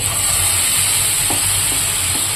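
Batata thalipeeth mixture sizzles in ghee on a dosa tawa over low gas, a loud, steady, close hiss that continues with no talking.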